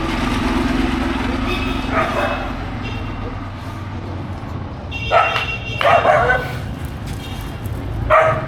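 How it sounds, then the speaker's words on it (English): Several dogs bark and yip at one another on a Cairo street, sharp bursts coming in clusters over steady traffic and city hum, with one flurry loud and close near the end. "Doggies are arguing with each other."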